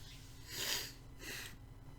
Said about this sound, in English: Sorry for all the sniffles.